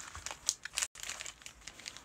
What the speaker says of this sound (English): shall open one pack up first?